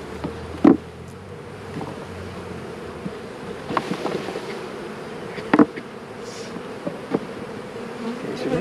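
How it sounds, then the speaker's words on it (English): Honey bees buzz in a steady, close hum throughout, with a few soft knocks and bumps breaking through. "we're going to shake some bees in here"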